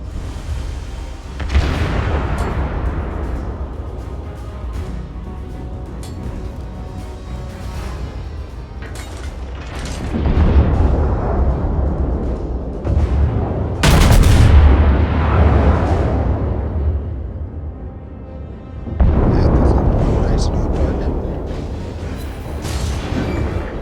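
Warship guns from the cruiser Cleveland fire in a naval battle video game, heavy booms and rolling blasts coming in several loud bursts with quieter rumbling stretches between them.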